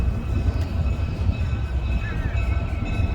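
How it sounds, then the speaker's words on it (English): Low rumbling of a train rolling in at the NC Transportation Museum, steady and fairly loud, with faint squealing and a distant tone above the heavy drone. "I hear the train pulling up over here."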